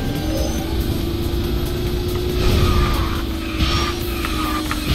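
A Lulu X kart from KartRider, running stock engine and wheels, drives fast with a steady high engine drone throughout, plus brief whooshing and skid-like bursts near the middle and end.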